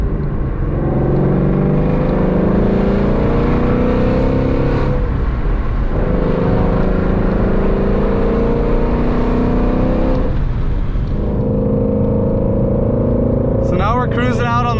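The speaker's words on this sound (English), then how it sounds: "Cruising out on the freeway right now with the GT350" Bagged Shelby GT350 cruising on the freeway, a loud steady engine drone with road and wind noise throughout, dipping briefly twice, as someone talks over it.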